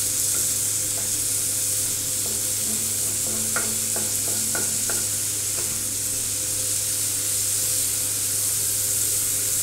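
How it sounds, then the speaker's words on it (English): Scrambled egg ingredients frying on a flat iron tawa, dhaba style, give a constant loud sizzle with a few brief stirring scrapes midway; no one speaks. "All these items, we will fry it."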